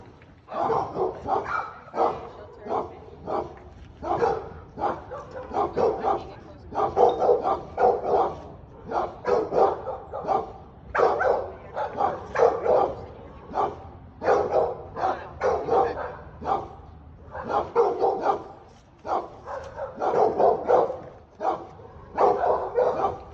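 Several dogs bark repeatedly near a doghouse at a residence, loud, close bursts of barking and yips continuing steadily with only brief pauses.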